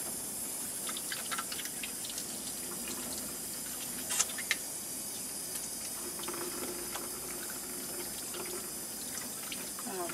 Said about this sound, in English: make sure you do a real good job of washing your hands